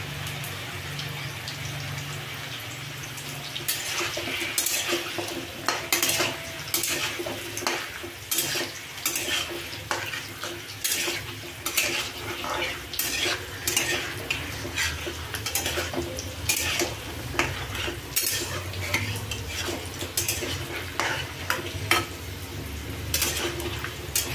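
Potatoes frying in a pan for a chicken kosa, heard as a steady sizzle with frequent clinking scrapes of a spatula stirring against the pan, close and continuous throughout.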